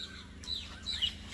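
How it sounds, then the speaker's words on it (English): Birds chirp and chickens cluck outdoors in Sri Lanka, with several short, fairly faint calls rising over a steady low background hum. "Wow, lots of birds."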